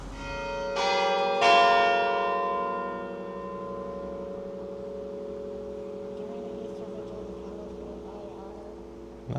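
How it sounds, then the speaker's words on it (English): Church bells in Liechtenstein strike twice in quick succession near the start, then ring on in a long fading hum over faint outdoor background noise. "but we did get to hear the bells"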